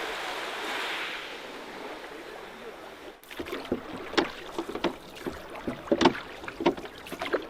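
A small dinghy moves through water, first a soft steady wash, then irregular close splashes and knocks of water against the hull, moderately quiet with no talk.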